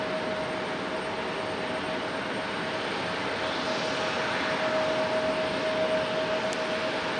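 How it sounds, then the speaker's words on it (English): An Air France Airbus A350 departs from Raleigh-Durham airport with a continuous jet engine roar and a thin steady whine, building gently louder toward the end. "All right, Air France. In all of its beautiful A350-ness. Last departure of the show."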